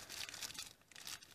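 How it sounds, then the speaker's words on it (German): A plastic bag of rhinestone beads handled up close, with steady soft crinkling and rustling that runs continuously throughout. "Dann haben wir eine Tüte mit Perlen. Diese Strasssteinchenperlen."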